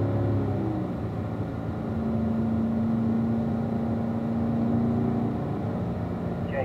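A Chevrolet Corvette drives on a race track, its engine a steady droning hum with a sustained tone held through the middle, heard from inside or close by, with no talk.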